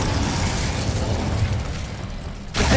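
Incendio fire spell cast in Hogwarts Legacy, a dense roaring burst of flame that holds steadily for over two seconds before a fresh whoosh starts at the end, loud and with no voices over it.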